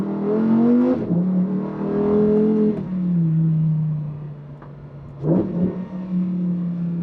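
A Lamborghini engine revving hard on the Goodwood hill course, a loud close roar that rises in pitch, drops back through shifts, and surges again near the end.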